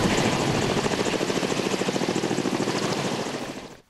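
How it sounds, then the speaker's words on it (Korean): Korea Forest Service firefighting helicopter, loud and close, with a rapid, steady rotor chop over a dense engine roar that holds constant, then cuts off abruptly at the end. "열흘 동안 산불 현장을 누볐던 산림청 진화 헬기입니다."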